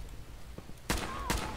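Two sharp gunshots from a gun in Fallout 4 crack a fraction of a second apart over a low, murmuring background, punchy and close.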